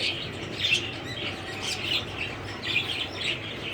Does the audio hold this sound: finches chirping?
yes